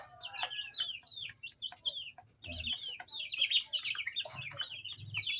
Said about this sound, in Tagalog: yung ating update sa ating mga alagang sisiw na future at layer natin